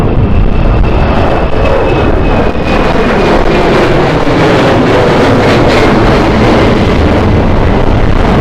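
An aircraft taking off at London City Airport on a windy day, a loud, steady, unbroken engine roar mixed with heavy wind buffeting on the microphone, no speech.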